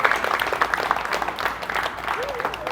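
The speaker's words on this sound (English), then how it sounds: "Can you clap it up for my brother?" Audience applause at a motivational talk for teens, a steady wash of clapping held at moderate level throughout.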